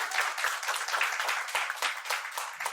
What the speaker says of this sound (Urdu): آپ تالیوں سے ان کا استقبال کریں.